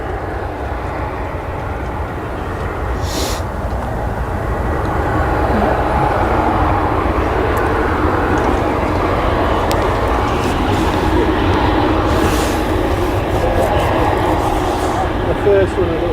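A Ryanair airliner at Leeds Bradford Airport produces a broad, steady engine roar that swells and holds for the whole stretch, heard from a distance outdoors, with people talking faintly nearby.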